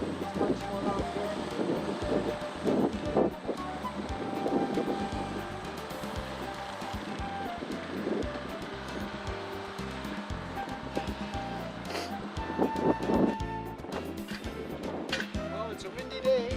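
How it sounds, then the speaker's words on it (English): Wind gusting across a lakeside beach at Ma-Me-O Beach on a windy day, rumbling microphone buffeting with faint background noise and occasional knocks. "It's a windy day."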